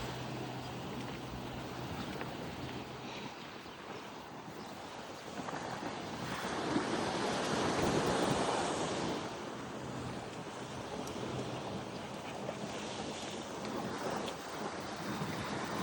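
Sea waves break and wash against a rocky shore along a breakwater at Murrays Bay, Auckland. The surf is steady and moderately distant, with a swelling roar midway and constant wind rumble on the microphone. No one speaks.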